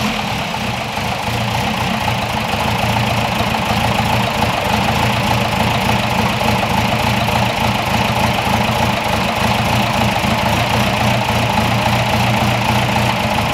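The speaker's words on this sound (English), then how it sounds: "start the truck." A Toyota pickup truck with a turbocharged engine idles steadily after starting, a loud, close, continuous low rumble with an even mechanical throb and no voices.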